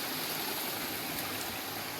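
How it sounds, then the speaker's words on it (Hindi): Water flows out from the Aravalli hills in a continuous broadband rush, steady and fairly close, with no voices over it. "ये पानी सब अंदर से आ रहा है, पहाड़ों से आ रहा है।"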